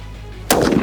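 A single loud, close rifle shot fired at game during a trophy hunt in South Africa, a sudden sharp blast that breaks a quiet background and rings out with a lingering echo.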